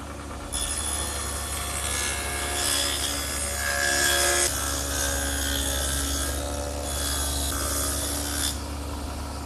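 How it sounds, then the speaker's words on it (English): A table saw fitted with an adjustable dado head cutter grinds a quarter-inch-wide, half-inch-deep groove in wood, a loud steady whining cut that holds for several seconds with slight surges in pitch. "I've set up my table saw with the adjustable dado head cutter to be about 1/4 of an inch wide"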